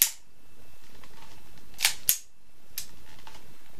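A revolver fired during a fast-draw thumbing demonstration, a few sharp close cracks spaced apart, one at the start and a quick pair near the middle, then a fainter snap, with quiet between.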